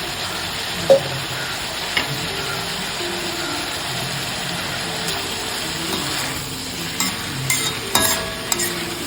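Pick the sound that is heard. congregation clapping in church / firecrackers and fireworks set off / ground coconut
ground coconut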